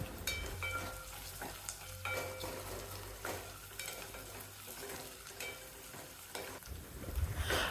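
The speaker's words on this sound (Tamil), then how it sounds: "பச்சை மிளகாய் லேசாக கீறினா போதும். அதோட முந்திரி பருப்பையும் சேர்த்து வதக்கணும்." Steady sizzling and frying in a pan as sliced onions, slit green chilies and cashews are sautéed for a one-pot veg biryani, with repeated scraping and stirring clinks throughout.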